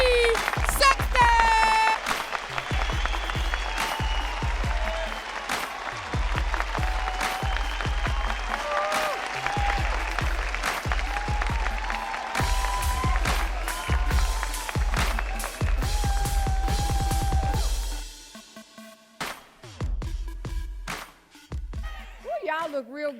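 A symposium audience claps and cheers for a speaker being introduced, loud and continuous with strong thumping beats and voices over it, then the noise drops away into quieter talk near the end.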